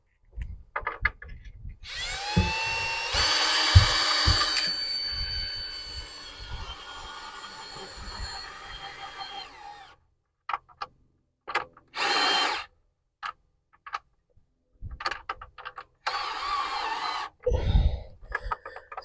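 A power drill drives 200mm coach screws into the ground to anchor a Carefree caravan awning, whirring loud and steady for several seconds, then returning in short repeated bursts with pauses between.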